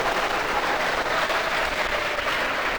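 Applause from the crowd at a county fair swine show, honouring the kids in the junior show, a steady, even patter of many hands clapping, moderately loud and unbroken.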